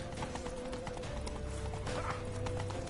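Horse hooves clip-clop rapidly in The Witcher III, a quick galloping rhythm over a rumbling game soundscape with a steady tonal drone in the background.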